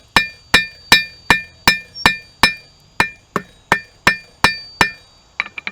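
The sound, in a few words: blacksmith hammering a nail taper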